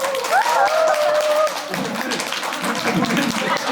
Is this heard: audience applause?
yes